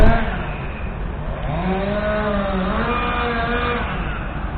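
Chainsaws cut up a tree downed by severe winds, a loud, steady engine drone with rising and falling revving tones running throughout, close by and continuous, with a voice faintly mixed in.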